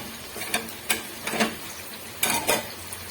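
Spices and tomato puree go into mutton frying for Sindhi biryani, a close, steady sizzle broken by several sharp scraping strokes of a spoon against the pot.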